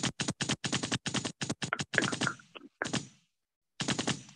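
Rapid bursts of gunshot sound effects fire in quick succession, a loud, sharp machine-gun-like rattle followed by a few separate shots with brief silences between them.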